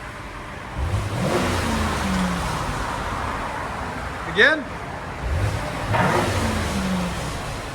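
Close revving of a 2014 Cadillac XTS V-Sport with a 3.6-litre twin-turbo V6 and a Paradox exhaust: several rising and falling throttle blips with a sharp whine in the middle, partly under someone speaking.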